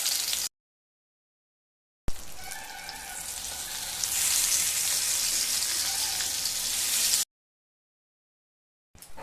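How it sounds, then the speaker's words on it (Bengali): Eggplant pieces sizzle and hiss loudly in hot mustard oil for a vegetarian begun bahar, a steady, bright frying roar broken by abrupt silent gaps at the start and end. "বেগুনগুলো ভাজা হয়ে গেছে"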